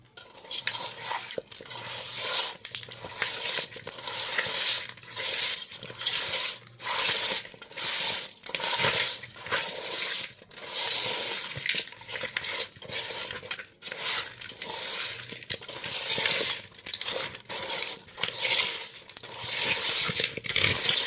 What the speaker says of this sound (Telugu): కారం, పసుపు, టమాటా, ఎర్రగడ్డ ముక్కలకి, చేప ముక్కలకి పట్టేలాగా బాగా కలుపుతాను.